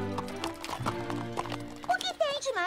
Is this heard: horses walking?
yes